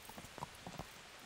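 Faint hoofbeats of a fast horse in the Kingdom Come: Deliverance video game, a few soft clip-clop strikes in uneven rhythm over a brief moment, quiet and distant.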